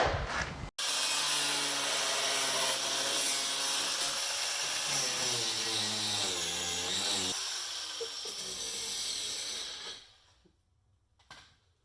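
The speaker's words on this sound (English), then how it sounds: "time to cut the fender" A C5 Corvette's fender cut with a power tool, producing a loud, continuous grinding and rasping that runs for about ten seconds, then stops and fades, with no talking.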